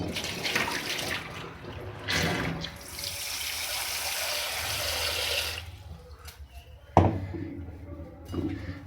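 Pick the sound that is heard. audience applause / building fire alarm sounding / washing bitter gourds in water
washing bitter gourds in water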